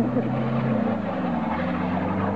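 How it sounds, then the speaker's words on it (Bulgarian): A diesel engine idles steadily right after starting, giving a continuous low, droning hum with a rough, even throb and no pauses. "Този двигател бързо пусти."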